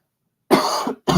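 Two quick, close coughs break the silence, the first longer and harsher, the second starting just as the sound ends.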